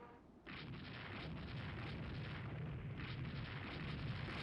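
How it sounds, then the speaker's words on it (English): Bombs from a dive bombing attack on a destroyer in the naval strategy game Rule the Waves 3 thunder as a dense, continuous rumble of blasts, loud and sustained after a sudden onset. "We're dive bombing the destroyer"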